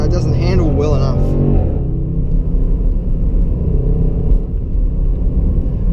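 A 2016 Range Rover Sport SVR engine drones steadily while driving, a deep continuous rumble inside the cabin with someone talking over it at the start.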